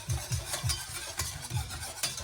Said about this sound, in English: The trick is now just to not stop whisking. It's just starting to thicken now.